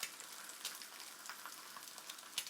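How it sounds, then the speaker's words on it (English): Fried eggs sizzle steadily in a tilted pan as hot fat is basted over them, a continuous close crackle with brief louder spits and pops. "I think fried eggs are quite a personal thing, but I like to cook the tops by tilting the pan and basting them."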